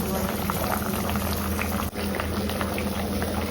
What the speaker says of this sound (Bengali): এখানে ডাল তরকারিগুলো গরম বসিয়ে দিয়েছি, ডালটা গরম হয়ে গেছে।